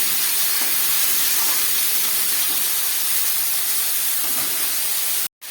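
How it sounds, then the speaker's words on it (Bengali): Spice paste in a pan hisses loudly and evenly after a splash of water is added, a dense, close sizzle that carries on unbroken until a brief cut near the end. "সামান্য একটু জল দিয়ে দিচ্ছি মশলাটা খুব ভালোভাবে কষাবার জন্য।"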